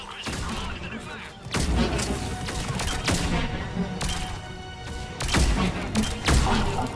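Rapid gunfire crackles through a battle in Mass Effect Legendary Edition, with bursts and heavy booming impacts at irregular intervals, loud and sustained, with combat chatter mixed in the background.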